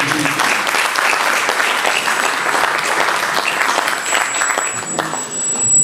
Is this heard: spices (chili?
no